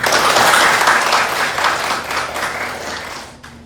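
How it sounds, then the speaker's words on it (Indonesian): An audience at a university teaching session breaks into applause, a dense patter that is loudest at first and then gradually fades over a few seconds. "Tepuk tangan untuk kita"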